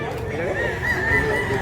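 Roosters and hens at a busy poultry market in Mantalungon, Cebu, with crowing and clucking rising over steady crowd chatter and background noise, the birds fairly close.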